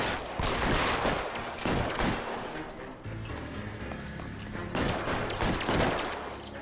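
A sustained gunfight in L.A. Noire: bursts of rapid gunfire crackle close and loud, thinning out midway, then swelling again into dense volleys.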